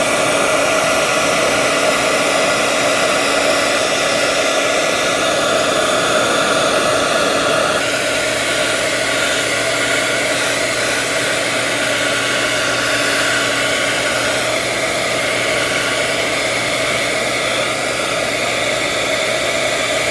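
An embossing heat tool blows continuously, a loud, steady, hissing whir close by with a slight shift in tone partway through, running alone without talk.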